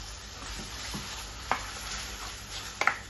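Yogurt is stirred into a chicken marinade for chicken tikka, giving soft wet mixing sounds with a few sharp spoon clicks against the bowl near the end, close and fairly quiet.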